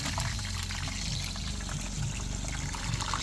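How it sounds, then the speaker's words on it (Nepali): Coffee poured at a rainy campsite, a soft continuous liquid pour heard close and quiet against a low background hum, without voices. "यहाँ कफी सर्भ हुँदैछ"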